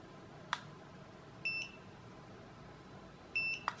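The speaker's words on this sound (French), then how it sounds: "Il suffit d'appuyer jusqu'au deuxième bip." Two short electronic beeps from Eachine EV100 FPV goggles spaced about two seconds apart, faint against quiet background hiss, with a couple of small clicks from button presses.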